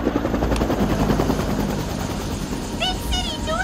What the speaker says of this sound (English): Big city news chopper!